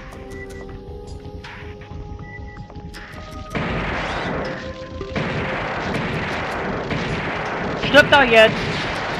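Gunfire in the PS1 game Alien Trilogy: game music gives way to dense, continuous booming shots that stay loud to the end, with a sharper burst near the close. Someone speaks German over the firing.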